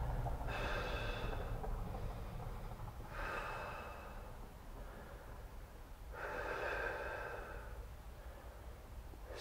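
Heavy, forceful exhalations during an abs and core workout, three long breathy bursts a few seconds apart, close and rough over steady background noise.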